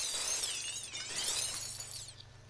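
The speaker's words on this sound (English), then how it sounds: "Wait for the glass to break." Glass shattering in a video game: a loud, bright crash that keeps tinkling and scattering for about two seconds before tapering off, with no voices.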